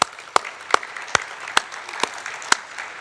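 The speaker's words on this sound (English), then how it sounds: "Let's give her another round of applause" Slow, distinct hand claps in a steady rhythm at a university Grad Slam final, roughly seven claps with faint room noise between them, sounding thin rather than like a full audience.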